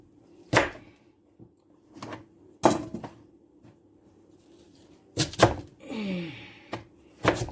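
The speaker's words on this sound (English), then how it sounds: "let's start, slicing the yam" A knife slices through raw yam for Nigerian fried yam, giving sharp separate chopping knocks at an irregular pace with quiet gaps between them, alongside some kitchen clatter.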